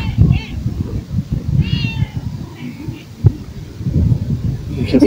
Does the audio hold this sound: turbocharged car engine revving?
no